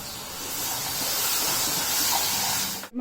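Ground coriander, fenugreek powder and tomato paste hit hot oil in a tomato rasam tempering, giving a steady, loud, hissing sizzle that holds for about three seconds before cutting off abruptly.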